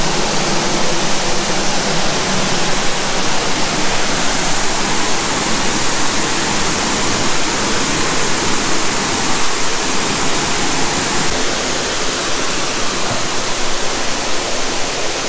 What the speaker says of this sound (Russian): Это водопад, втекает еще какая-то речушка.